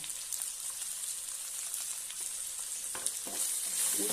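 Potato pieces with salt and turmeric sautéing in a pan, a steady close hiss of frying with a few light stirring clicks near the end, no speech.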